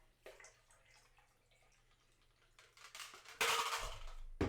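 Water poured from a bottle into a container indoors, a faint trickle at first then a louder splashing gush near the end, with soft handling clinks.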